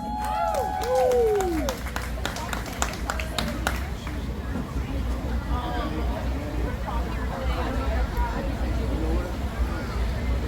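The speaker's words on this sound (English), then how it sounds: "give Rob Mills a round of applause, ladies and gentlemen" At a Jackson Heights Day community event, a crowd gives a burst of scattered clapping in the first few seconds, then it fades into a steady murmur of outdoor crowd noise and nearby talking.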